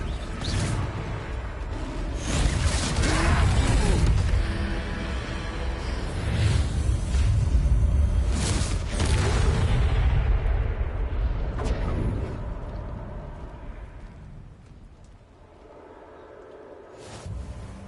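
A Confringo explosion spell strikes a troll in a video game: loud, dense booming blasts and whooshing bursts roll continuously, then thin out and fade toward the end.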